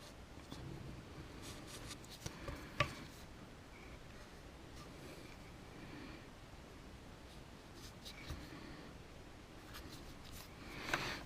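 A permanent pen tracing a line around a pipe marked by a Jubilee clip near a gearbox, giving soft, faint scratchy strokes with a few light taps and rubs, quiet and close.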